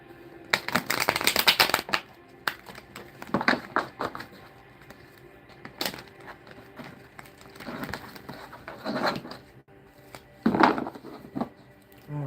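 Tarot cards are shuffled by hand in several bursts of crisp riffling and slapping, separated by short quiet gaps and fairly close.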